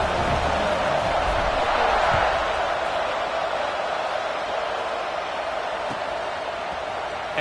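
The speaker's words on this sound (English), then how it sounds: "this crowd is buzzing after that last score" Football stadium crowd at a Mississippi State game just after a touchdown and extra point, a dense, steady wall of murmuring and cheering that fills the space from start to finish.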